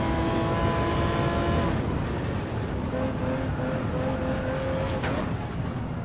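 A Porsche race car in Gran Turismo 7 at the 24 Heures du Mans circuit, its engine droning steadily with shifting pitch through curves, loud and continuous.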